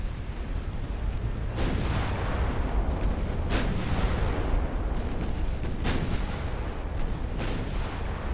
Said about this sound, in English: One of their torpedoes exploded.